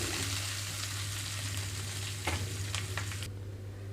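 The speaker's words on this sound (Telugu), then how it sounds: "ఇక్కడ ఉల్లిపాయలు కొంచెం కలర్ మారే వరకు వేయించుకోవాలి" Onions, curry leaves and crushed garlic fry in a pan for tindora fry, a continuous close sizzle with a few stirring scrapes, cutting off abruptly near the end.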